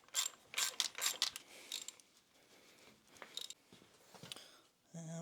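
Ratchet clicks in quick bursts while bolts are snugged up on a Polaris Sportsman 570 ATV, close and fairly quiet, with pauses and small clanks between strokes.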